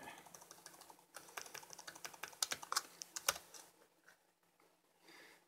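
Fingers tap quickly at a computer keyboard while code is written for an Iron Man suit repulsor control, soft irregular clicks in bursts and short pauses, close and quiet.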